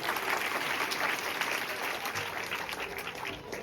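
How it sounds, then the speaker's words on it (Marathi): Audience applause for schoolchildren at a school gathering in Mahalungi, dense steady clapping from many hands continuing evenly throughout. "आपण त्यासाठी सर्वजण टाळ्या वाजून त्याचा आनंद व्यक्त करूया"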